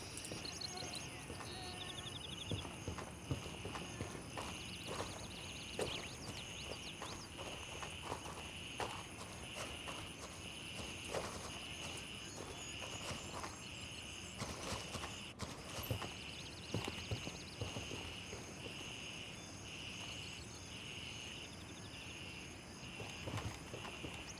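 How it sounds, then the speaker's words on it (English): Footsteps of a character moving through terrain in the tactical shooter Gray Zone Warfare: a steady run of soft, faint steps over a constant high-pitched insect and cricket drone, with no voices. "I hear the footsteps."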